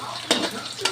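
Crushed ginger frying in a pan, a close, continuous sizzle with two quick scraping stirs of a utensil against the pan.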